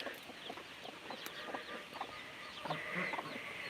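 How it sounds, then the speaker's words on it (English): Chickens cluck and murmur in scattered bursts on a farm in rural South Dakota at sunrise, a soft, moderately distant flock with no talking. "we'll let our chickens out"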